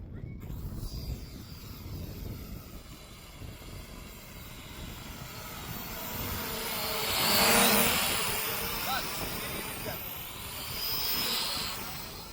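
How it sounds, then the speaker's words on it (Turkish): A small, inexpensive camera drone's buzzing hum, buffeted by gusty wind rumbling on the microphone, swelling louder as it passes close. "Rüzgarda bu drone uçurmamanızı tavsiye ediyorum. Çok zor kontrol ediliyor."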